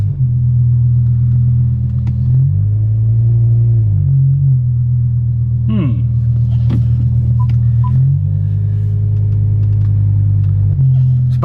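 BMW E60 M5 with a freshly replaced clutch pulls away, its engine a loud, steady low drone that dips and rises with each gear change, with a few light clicks and knocks over the top.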